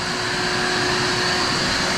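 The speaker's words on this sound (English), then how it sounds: "So vacuum comes back on." A vacuum runs continuously at a steady, loud drone with a constant whine while drilling holes in fiberglass and plywood, unbroken and without any talking.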